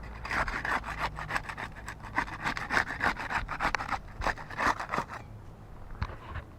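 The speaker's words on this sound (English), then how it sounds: "We'll use that to unseal shingle 8 there" A putty knife works under asphalt roof shingles to break the seal, producing repeated close scraping and prying strokes in an irregular rhythm that thin out toward the end.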